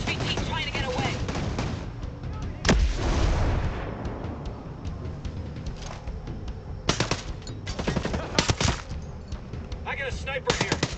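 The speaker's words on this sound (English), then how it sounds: "Gun turret." Heavy automatic gunfire from a gun turret in the tactical shooter Ghost Recon Breakpoint, loud and sustained, with a big booming blast near the start and later bursts of sharp shots over constant battle noise.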